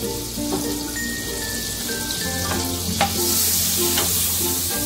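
Butter with a little white oil sizzling in a large pan for butter chicken, a close, steady crackling fry with scattered pops and a low hum underneath.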